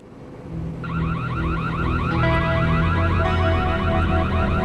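An electronic burglar alarm blares continuously, a rapidly warbling siren tone that starts suddenly and keeps going over a low hum.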